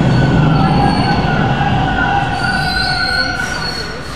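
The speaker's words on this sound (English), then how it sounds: "the train's rolling in." A subway train on Line 2 in Toronto rolls loudly into the station, wheels squealing in sustained high tones over a heavy rumbling roar that eases slightly as it slows, with no talking.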